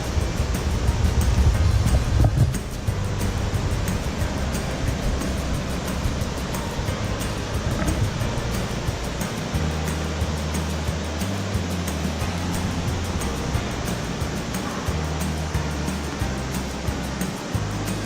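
River water in Linville Gorge rushes steadily and loudly as a dense, unbroken roar that stays level throughout, with a low rumble at the start and no voices.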